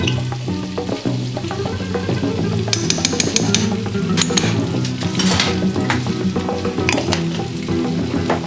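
Chicken steaks stuffed with camembert are stirred in a hot frying pan, giving a steady loud sizzle with scraping utensil strokes and clinks throughout, without speech.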